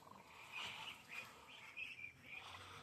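Several short nasal calls from a duck at a poultry farm, fairly faint, spread across a few seconds with brief gaps between them.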